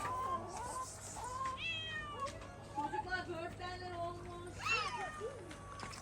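A cat meows several times, drawn-out and whiny, against quiet background noise.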